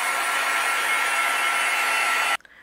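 A heat tool blows steadily and loudly over watercolor-painted panels to dry them, a continuous close whooshing roar that cuts off abruptly near the end, leaving a few faint clicks.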